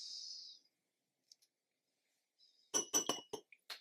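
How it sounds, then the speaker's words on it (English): A Sailor Profit Junior x Mizutama Kohiru fountain pen is rinsed in a glass: a brief soft hiss, then silence, then a quick cluster of sharp, close glass clinks and taps, all fairly quiet. "Just rinse off my swatch pen."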